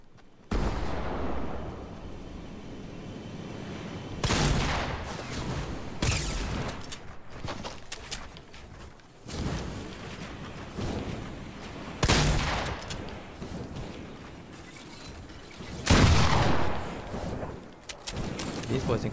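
Shotgun blasts ring out in a video game during a close-range shotguns-only match, several loud bursts spaced through the action with background game noise and a player talking over it.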